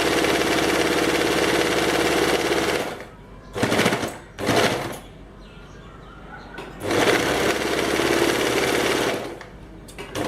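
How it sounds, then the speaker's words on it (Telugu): A sewing machine stitches salwar pant fabric in loud, steady runs, stopping for a few seconds while the needle is lowered, then restarting in short bursts before a long continuous run and a brief final burst. "నీడిల్ని దించి ఒకసారి మళ్ళీ స్టిచ్ లాక్ చేయాలి"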